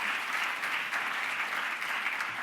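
A crowd at a gala applauds steadily throughout, dense clapping from many hands at an even, moderate loudness with no voices above it.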